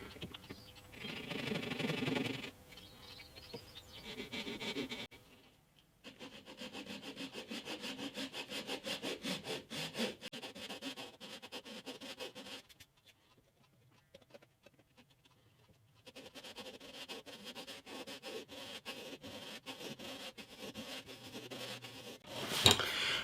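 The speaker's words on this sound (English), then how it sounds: "Just sanded it down and smoothed it off to the size that I need for this little slot." Rasping strokes of sandpaper against a thin steel chisel as it is ground down for a guitar bridge slot, steady scraping with two short pauses, close and fairly quiet.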